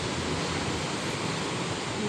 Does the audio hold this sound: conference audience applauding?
no